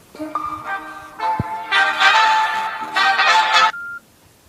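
A mobile phone plays an SMS notification tone: a loud, close melodic run of bright electronic beeps lasting about four seconds and ending on one held note, with no talking.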